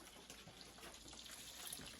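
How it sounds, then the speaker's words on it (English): Water pours steadily from a tap into a pot of red beans being cooked, a continuous soft gushing splash, close and fairly quiet with no voices. "I'm just going to add some water."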